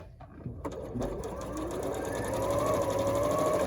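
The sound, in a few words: sewing machine stitching a quilt block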